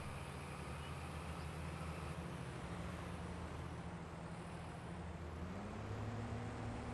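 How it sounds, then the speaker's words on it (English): A tractor engine labors uphill in Farming Simulator 22, a loud, steady droning rumble with a low pitch that shifts slightly as the load changes, continuous throughout with no talking. "Come on, tractor."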